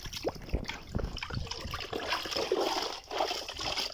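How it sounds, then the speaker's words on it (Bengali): Water splashes and trickles as a small child is bathed sitting in a bucket outdoors in a park, quiet irregular splashes and pours with short gaps between them. "পার্কে আমি স্নান করতেছি"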